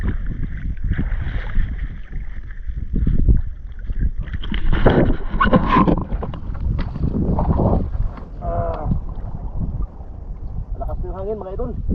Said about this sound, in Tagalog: Lakas yung hangin mga idol. Lakas.